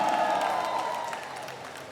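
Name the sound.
audience applauding lyricist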